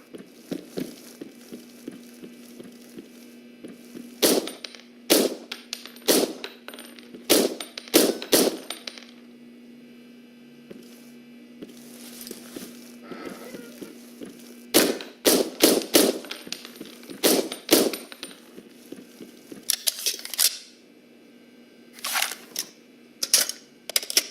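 Gunfire at targets in the America's Army basic training game, with sharp single shots and short clustered volleys separated by pauses over a steady low electronic hum.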